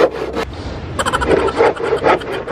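Hand saw cutting through bamboo with push-and-pull strokes, a series of close, rough rasping scrapes repeating in an uneven rhythm with no talk.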